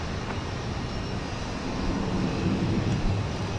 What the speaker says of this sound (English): There's another United Express plane going to Harlingen, Texas.